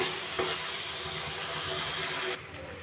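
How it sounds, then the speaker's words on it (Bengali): Spice paste sizzles and fries steadily in hot oil, a continuous close crackling hiss with occasional stirring, easing slightly near the end. "যতক্ষণ না পর্যন্ত মশলা থেকে তেল বেরোচ্ছে ভালো করে মশলাটা কষিয়ে নেব।"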